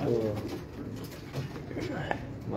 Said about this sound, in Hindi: बहुत अच्छे कबूतर जी माशाल्लाह।